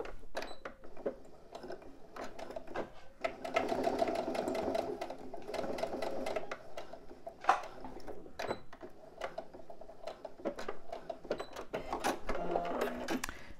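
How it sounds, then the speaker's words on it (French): A sewing machine topstitches a backpack made of fabric, running in rapid mechanical bursts broken by short pauses and occasional clicks, with no talking. "je n'ai plus qu'à faire ma surpiqûre"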